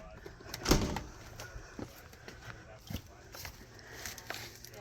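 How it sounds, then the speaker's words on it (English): A cheap camper's screen door and outer door are opened and closed, giving a sharp clack and rattling, scraping knocks with light thumps scattered through the quiet. "it's got the screen door as well as the outside door."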